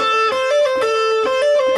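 A guitar plays a steady, even triplet pattern using hammer-ons and pull-offs, the clean notes repeating quickly and closely in a short lick with no talking.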